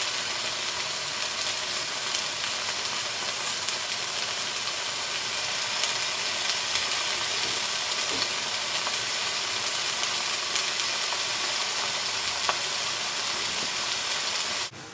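Escalopes fry in a pan with a steady, even sizzle and hiss running unbroken for about fifteen seconds, then cutting off abruptly at the end; no one speaks.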